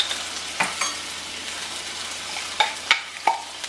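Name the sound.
garlic sizzling in a hot pan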